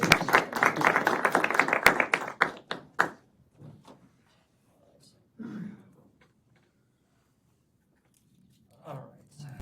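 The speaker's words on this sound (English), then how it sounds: "let's clap." A class claps together for about three seconds, a quick burst of close hand claps that thins out and stops, followed by quiet with a few soft taps and brief voices.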